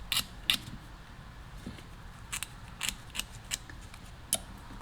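Small cutters snip extra wire line on a Honda CT70 stator during a rebuild kit installation, a handful of sharp, faint clicks spaced irregularly over quiet room noise.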